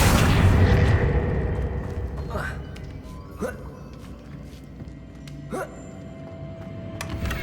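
A fire spell is cast in Hogwarts Legacy, its loud rumbling burst at the start fading into a low roar, followed by a few sharp swooshing spell effects and clicks over soft game ambience.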